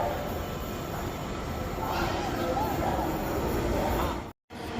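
A Dhaka metro train pulling into a station, a broad steady rumble of wheels and carriage noise with a faint rising whine, cut by a brief dropout near the end.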